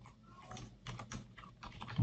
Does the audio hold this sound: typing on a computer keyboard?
yes